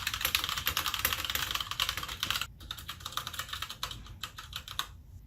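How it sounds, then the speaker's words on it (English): Fast typing on the number keys of a MacBook's scissor-switch laptop keyboard, a dense stream of light, crisp clicks and taps heard up close throughout, with no voices. "how those rubber stoppers work to cushion the number keys versus the letters"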